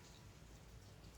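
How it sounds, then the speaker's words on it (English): Steady rain falling outside on a winter day, a soft continuous patter and hiss that runs evenly through the whole moment with no voices over it. "So it's raining and it just sounds so pretty."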